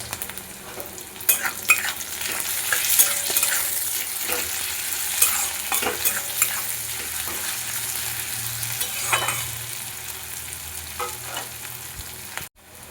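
Chopped onion and garlic fry in oil in a pan for a spinach dish, giving a steady, moderately loud sizzle with a few scraping stirs and clinks spread across the clip.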